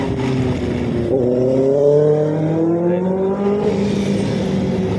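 Road traffic on a Monday, with car engines revving and rising in pitch nearby, a steady loud motor drone filling the whole stretch with no talking.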